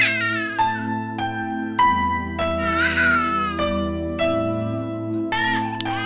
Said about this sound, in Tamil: குழந்தை அழுவுற சவுண்ட் கேக்குது